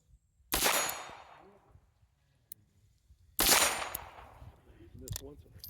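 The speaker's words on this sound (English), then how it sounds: "Even as badly as I shake, this gun shoots good." Two sharp, loud shots from a Smith & Wesson K22 .22 revolver, a few seconds apart, each with a fading echo, followed by faint rustling and brief talk after the second.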